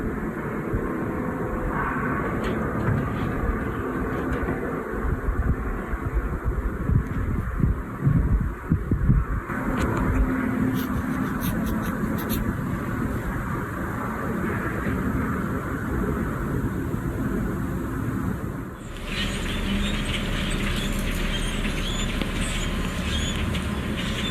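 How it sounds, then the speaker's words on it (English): A strange droning, metallic hum hangs steadily in the open sky over Denmark, with faint crackling noise and a brief dip before it resumes. "strange metallic sounds in the sky were heard in Denmark."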